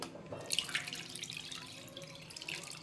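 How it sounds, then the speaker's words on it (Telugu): Tamarind juice poured from a vessel onto fish pieces in a cooking pot gives a soft, continuous trickle of liquid with small splashes, fairly faint and close. "ఇప్పుడు చింతపండు రసాన్ని చేపల్లో పోసుకోవాలి"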